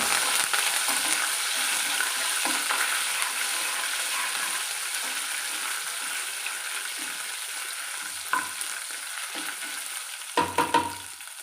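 Curry leaves and ginger crackle and sizzle in hot oil for wheat rava upma, a steady close frying hiss with stirring scrapes and a few louder pops near the end.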